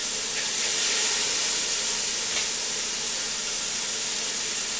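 Mushrooms roast in oil in a hot pan, making a loud, steady hiss and sizzle that does not let up, with no talk over it.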